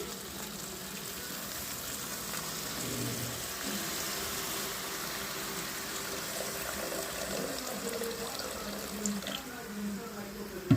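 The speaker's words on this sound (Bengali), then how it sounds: "তো এখন জল দিয়ে দিচ্ছি।" Water poured into a pan of fish cooking in oil and spice, a steady pouring wash with faint sizzling underneath, fairly quiet and continuous, ending in a small clank.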